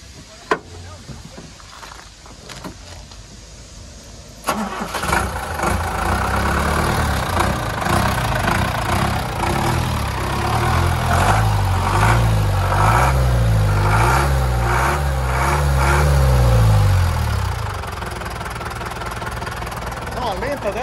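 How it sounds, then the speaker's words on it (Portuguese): A Ford F1000 Amazonia pickup engine cranks and catches, then settles into a steady idle with a few rising revs, loud and close, while people talk nearby. "Liga lá pra gente, Charles, pra gente escutar um pouquinho desse motor aqui"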